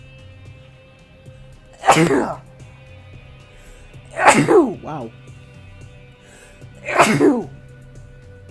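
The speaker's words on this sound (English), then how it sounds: "But, uh-oh, sneeze." Three loud sneezes, a few seconds apart, burst out close by, with faint background noise and a brief spoken exclamation.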